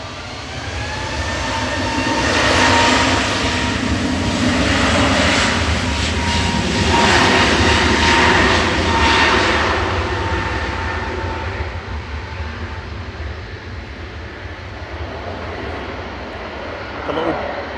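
A Bombardier Global business jet lands at Manchester Airport with a very loud, broad engine roar, heard from a spotting position nearby. The roar swells and fades over several seconds as the jet passes, then stays steady as it rolls out.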